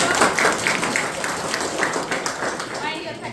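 A seminar audience applauding a guest, a former head of department, with dense, steady clapping that carries on throughout and stays fairly loud.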